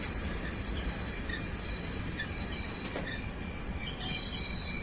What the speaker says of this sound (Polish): po jednym torze jedzie pociąg z chałupek na Katowice